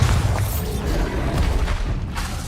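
Bombarda spell blasts in the Hogwarts Legacy game, a heavy booming explosion with rumbling low end followed by crackling debris and a second impact, loud and close, no voice over it.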